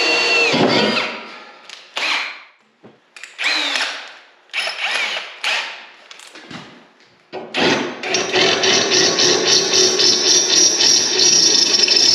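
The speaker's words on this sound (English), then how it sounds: "Drill up the holes for the studs" A power drill drilling holes in metal whirs in several short bursts with pauses between, then runs steadily for a longer stretch, loud and close.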